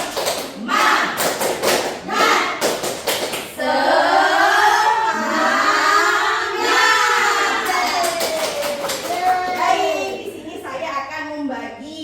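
A group at a child-protection training session does the 'tepuk semangat' rhythmic clapping ice-breaker: close, sharp bursts of claps in the first few seconds, then the group's voices chanting together loudly.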